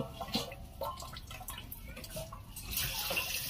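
Steady running water from a tap, soft splashing and trickling throughout, fairly quiet and close.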